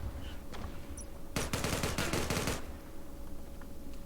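A sustained burst of rapid automatic gunfire in the online shooter game Zula, loud and close, lasting about a second amid low background noise.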